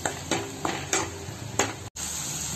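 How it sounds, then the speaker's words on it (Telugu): Ground tomato paste fries in a pan for a Telugu fish curry, a steady sizzle broken by several sharp scrapes and clinks of a spoon stirring against the metal, then a brief cut before the hiss resumes. "టమాటా బాగా నూరిసి ఉంచుకున్నాం, అది వేసేయాలి. ఇది పచ్చవాసన పోయిన వరకు బాగా వేగించాలి."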